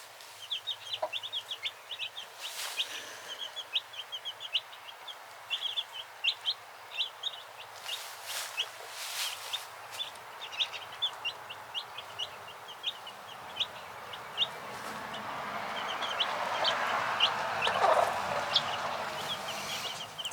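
Soft, repeated clucking calls from a hen amid chirping chicks, with a rising rustle of movement toward the end.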